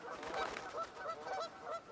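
Migratory geese honking in a short burst of repeated nasal calls, several honks overlapping in an uneven rhythm, fairly close and clear, used as a sound effect in a children's story.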